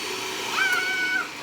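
An electric whisk mixes chocolate cupcake batter, giving off a close, steady motor whine with a thin high tone that swells briefly and then settles.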